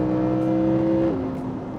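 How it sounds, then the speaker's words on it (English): Audi R8 Performance Spyder engine at full throttle, a loud, steady high-revving wail that holds a constant pitch before dropping slightly as it shifts. "All I want to do is just keep pushing the throttle"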